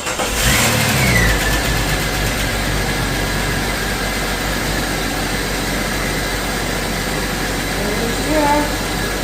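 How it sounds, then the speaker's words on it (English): A Jeep Cherokee XJ engine, freshly fitted with a new cylinder head, cranks and fires up loudly at first, then runs steadily with a few revs, heard up close while people talk briefly. "Let's see if this thing will start."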